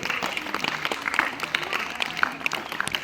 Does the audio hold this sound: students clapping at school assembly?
yes